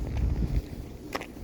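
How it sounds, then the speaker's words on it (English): Wind gusts along a woodland hiking trail at Hammel Woods in Shorewood, Illinois, buffeting the microphone with a low rumble that is strongest at first and then eases, with faint rustles and no talk. "It's getting windy, folks."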